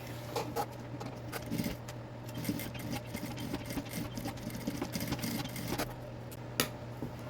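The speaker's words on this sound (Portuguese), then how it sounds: "Agora eu vou passar uma costura em toda a volta aqui, deixando só a parte de cima aberta para poder desvirar." An electric sewing machine stitches a seam around a bag lining with a half-centimetre margin, its steady motor hum running throughout with a rapid, regular needle ticking and a few small clicks near the end.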